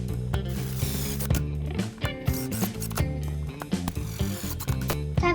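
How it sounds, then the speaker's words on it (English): Ratchet wrench tightening the clutch cover bolts on a Honda CRF150R dirt bike, a close run of rapid clicking pawl bursts with short pauses between strokes, continuing throughout without talk. "We're going to put the bolts back in."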